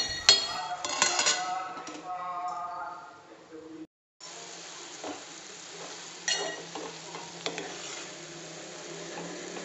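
A spoon scrapes and stirs ridge gourd and moong dal curry in a pan with soft clinks, while a voice talks over it; a brief silent gap falls midway.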